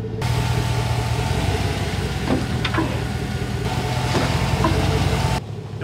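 A 1999–2018 Chevrolet Silverado pickup fitted with race car brakes rolls forward and back at home, its engine a steady low drone with faint creaks and clicks, heard close with no voices.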